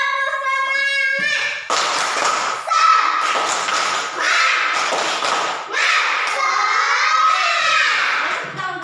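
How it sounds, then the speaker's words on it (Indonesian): Schoolchildren in an Indonesian classroom perform the rhythmic 'tepuk semangat' spirit clap, a loud burst of patterned claps and thumps mixed with children's voices and shouting, in several bouts, with a teacher's voice between them. "Tepuk semangat."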